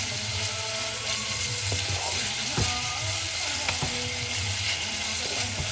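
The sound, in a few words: sautéing vegetables in a pan for escabeche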